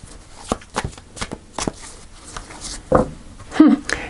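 Tarot cards are shuffled and cut by hand, a series of soft, close riffles and flicks with slaps of the deck, and a brief voice murmur near the end.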